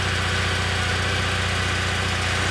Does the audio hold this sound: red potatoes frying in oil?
no